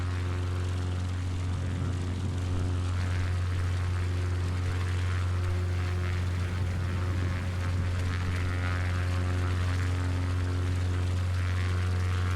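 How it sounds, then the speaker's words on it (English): A propeller airplane drones overhead in a steady low hum, swelling and easing a little in loudness while holding on throughout. "the way they do the volumes on these airplanes, the way the volumes just get louder randomly and then softer at random"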